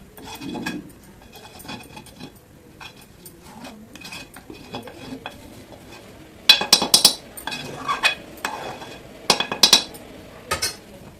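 Milk being stirred in a pot while making khoa, with a metal spoon scraping and clinking against the pan, quiet at first and then a run of sharp, loud, rhythmic scrapes and knocks in bursts, no talking.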